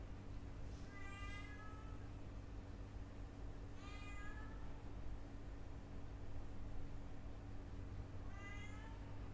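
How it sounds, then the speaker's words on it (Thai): A cat meows three times at steady intervals, each call clear and fairly close, over a constant low electrical hum in an indoor room. "อัดวิดีโอทีไรแมวมาทุกทีครับ"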